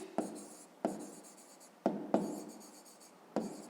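Pen writing by hand on paper while working a fifth-grade maths exercise, a soft continuous scratching broken by several sharp taps as new strokes begin, close and quiet with no talking.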